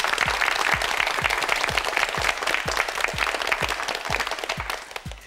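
A studio audience on a Korean television word quiz show applauds steadily, a dense, loud wash of clapping with a regular low thump pulsing beneath it throughout.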